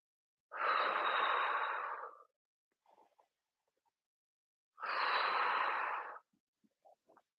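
Two slow, long exhalations during a seated yoga twist, each lasting over a second with a pause between, followed by faint small rustles; close and quiet.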